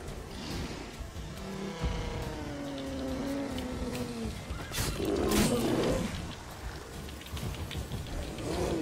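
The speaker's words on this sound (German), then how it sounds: "Ein Bär." A bear roars in The Witcher 3: Wild Hunt, a loud, growling, drawn-out roar building mid-clip amid game effects and a low rumbling backdrop.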